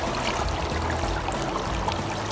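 Puwa Khola river water rushing at a confluence where two streams meet, a continuous close, full gurgling flow with no voices.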